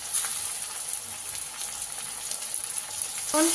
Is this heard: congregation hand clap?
no